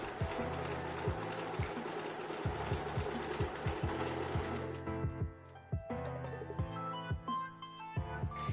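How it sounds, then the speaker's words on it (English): A sewing machine runs an overlock stitch along the widest edge of a hem cut from a T-shirt. It gives a steady, close, rhythmic whirring with regular thumps, stops briefly, then resumes in shorter bursts. "I hemmed the widest edge with an overlock stitch, or you can use the zigzag stitch."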